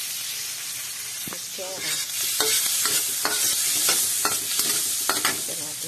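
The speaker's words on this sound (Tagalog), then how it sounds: "Magigisa tayo ng putsero natin." Pork pochero sautés in a pan with butter, garlic and onion, giving a continuous close sizzle with scraping stirs. One word is spoken briefly over the frying.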